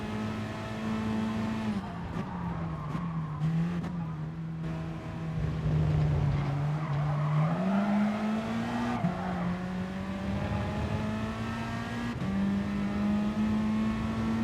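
Race cars roaring through a corner in the Gran Turismo Sport racing game, a steady engine drone rising and falling with gear changes and throttle, with faint tire squeal and no talk.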